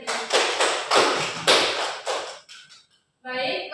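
A classroom group claps in a few loud, rhythmic bursts of applause close by, and a voice speaks briefly once the clapping stops.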